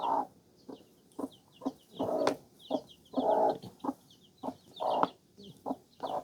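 A hen clucks in short, repeated bursts at an uneven rhythm, close by, while tiny chicks peep softly and continuously in the background.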